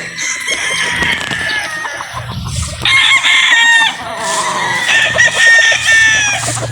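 Roosters and hens in a poultry yard crow loudly and close by in long repeated calls, with clucking and other farm birds in the background.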